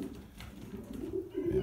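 Several pigeons coo softly and continuously in a loft where newly added cock birds are settling in, low murmuring calls overlapping at close range with no talk.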